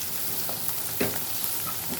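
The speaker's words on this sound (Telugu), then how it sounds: "కొంచెం పసుపు వేసి కలుపుకుంటున్నాను" Keema curry masala with turmeric is stirred in a hot pan, giving a continuous close sizzle with a sharper scrape partway through and no talking.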